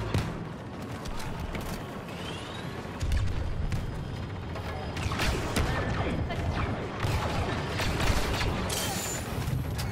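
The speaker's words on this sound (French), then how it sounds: "Grenade déployée." Grenade blast in the Star Wars Battlefront 2 galactic assault multiplayer mode, a booming explosion heard amid continuous gunfire and battlefield chaos, with a louder surge partway through.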